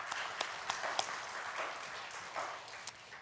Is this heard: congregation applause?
yes